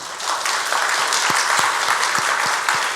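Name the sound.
congregation applause for newlyweds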